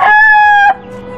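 A gamefowl rooster crows once, loud and close, a single sustained bright call that cuts off sharply, leaving quiet background noise afterward.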